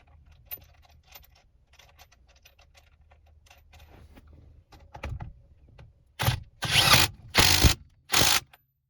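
Small metallic clicks and taps come first as a steering wheel nut is threaded onto a Maxima. Then come several loud, close bursts of rapid ratchet clicking, each lasting about half a second.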